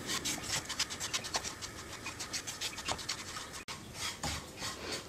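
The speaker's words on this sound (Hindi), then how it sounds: "बस उसी तरह से हमें सूजी को थोड़ा भून लेना है" Semolina being dry-roasted in a pan over a low-to-medium gas flame, with a spoon scraping and stirring in quick, irregular rasping strokes, close and fairly soft, with no talk.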